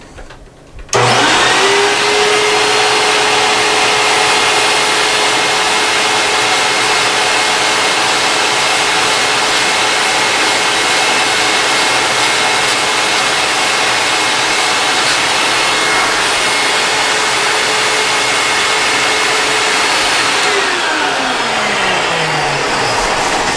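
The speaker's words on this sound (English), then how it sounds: "we are going to have a vacuum underneath us here to actually suck up any of the dust that comes off" A vacuum cleaner running beneath wall sanding picks up spackle dust during removal of a towel rack, starting abruptly with a loud, steady roar that holds for about twenty seconds before its pitch drops as it powers down.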